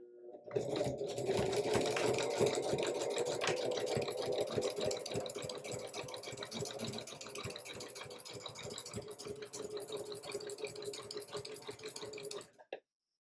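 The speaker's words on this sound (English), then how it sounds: "I want to make sure that my zigzag does not go past my sewing seam" A sewing machine running a steady zigzag stitch around a quilt, a fast even mechanical whir with rhythmic clatter, heard close and continuous before stopping abruptly.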